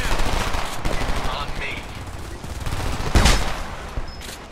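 Automatic gunfire in the video game Homefront, loud dense bursts of rapid shots filling the clip, with a sharp louder blast near the end and no one talking.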